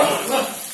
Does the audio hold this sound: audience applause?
no